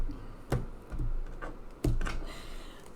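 A deck of oracle cards is cut and shuffled, with two crisp slapping riffles and soft shuffling rustles between them, close and quiet.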